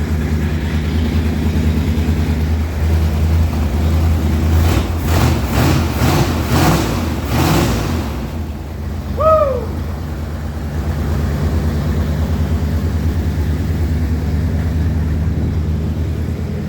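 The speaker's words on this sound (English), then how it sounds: "this is the first time in 28 or 29 years this engine has actually run that long" A junkyard engine pulled from a 1970 Ford Torino runs steadily while holding 50 psi of oil pressure. It gives a loud, continuous low drone with a pulsing patch partway through and a brief faint chirp.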